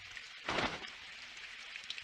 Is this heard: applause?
no